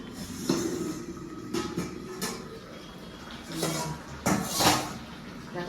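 A metal lid is lifted off a pot of vegetables cooked with bori, giving a few distinct clanks and scrapes of metal against metal between quieter kitchen noise, close by, with no speech.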